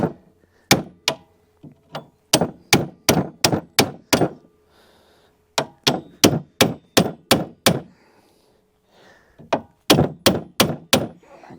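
Repeated loud metallic hammer blows on the leaf spring of a 1980 Dodge W150 plow truck, struck in quick rhythmic bursts, pausing briefly between series, close and forceful with no talking.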